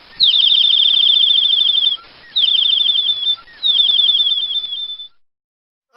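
Small-bird chirping used as a sound effect: three bright bursts of rapid, high twittering notes, each trill lasting about a second or two with brief pauses between, loud and clean with no talk.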